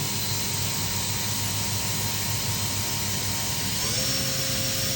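A 2011 Makino F5 CNC vertical machining center spindle spins at 6,000 RPM, a steady high whine with even tonal lines over broadband machine noise, constant and close, with a slight pitch step near the end.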